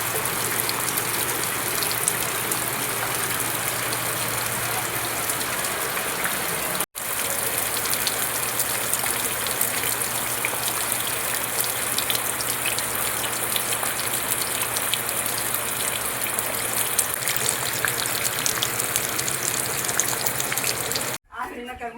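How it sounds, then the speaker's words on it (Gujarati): Steady rain pours down continuously, a dense hiss of drops on surfaces, loud and close, with two brief cutouts. "વરસાદ થયેલું છે મસ્ત મસ્ત"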